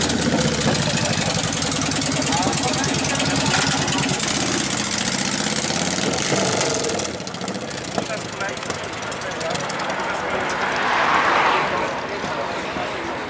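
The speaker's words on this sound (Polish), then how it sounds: "I będzie motor wyjeżdżał też." A motorcycle engine runs loudly at idle at a classic vehicle meet, then the sound drops back and swells again as it pulls out and moves off.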